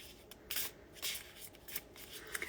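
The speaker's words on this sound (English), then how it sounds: "these are so, like, easy to shuffle" Tarot cards being shuffled, giving soft papery riffles and rubbing swishes in several short bursts, fairly quiet with no talking.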